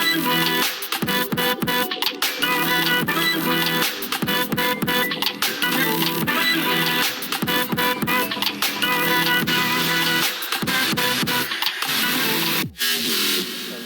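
A colour bass electronic music track plays dense and loud throughout, with layered synth tones, punchy percussive hits and a brief dropout near the end.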